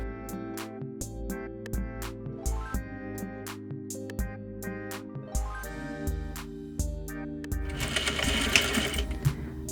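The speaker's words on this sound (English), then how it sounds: "Sew along your pinned edge," Sewing machine stitching a trouser waistband seam, attaching waistband and lining, in a series of short runs with rising whir and rapid needle clicks, separated by brief pauses, close and clear.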